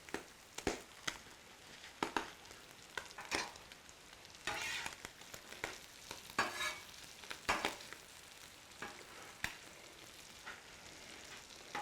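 Vegetables, meat, mushrooms and tomatoes fry on a Blackstone griddle with a constant soft sizzle, broken by repeated sharp scraping and clacking of a spatula at irregular intervals.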